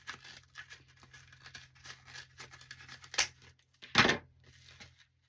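Sharp scissors snip through ribbon for a gnome Christmas wreath, with two crisp cuts standing out among quiet rustling and handling of the ribbon, close and fairly soft.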